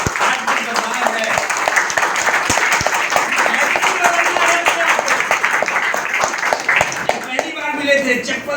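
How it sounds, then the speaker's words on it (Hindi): An audience at a distributor training session bursts into loud, sustained applause, dense clapping filling the room continuously, with a voice speaking over it near the end. "वेरी जोरदार ताली"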